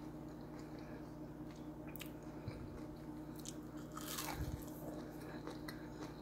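Crunchy bites into crisp food, a few chewing crunches close to the mic, with a louder crunch near the end and no talking.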